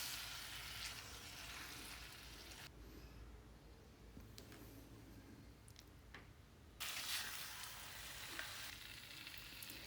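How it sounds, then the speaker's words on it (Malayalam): Chicken stir-fried and roasted in coconut oil, a steady hissing sizzle throughout, briefly quieter in the middle while the pieces are turned with soft scrapes, then loud frying again. "ചിക്കൻ നമ്മൾ ഇതിൽ ഒന്നുകൂടി ചേർത്ത് ഇളക്കി കൊടുക്കണം"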